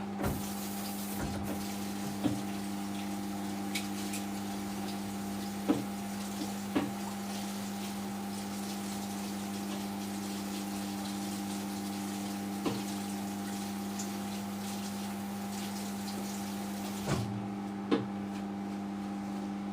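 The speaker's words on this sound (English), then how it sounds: "Let's just wash this up." Tap water runs steadily into a kitchen sink while dishes are washed up, over a constant mechanical hum. Occasional soft clinks and knocks of utensils come through, and the background is otherwise quiet.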